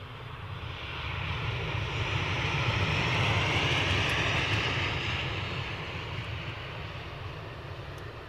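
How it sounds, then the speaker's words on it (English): A Ryanair airliner inbound from Barcelona to Edinburgh airport, its jet engine roar swelling to a loud broad rumble and rushing hiss as it passes nearby, then easing slightly, with no voices. "Inbound, Ryanair from Barcelona."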